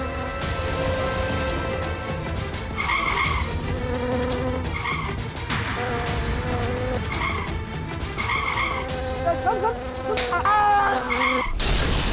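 A housefly buzzes steadily through a slapstick courtroom comedy scene, sustained and fairly loud alongside background music, with no speech.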